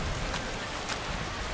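Rain falling in Skyrim, a dense, steady hiss of rainfall with no talk.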